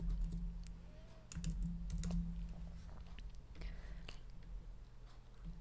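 Computer keyboard keys tapped while entering text into a Word document, a short run of light, close clicks over a low steady hum.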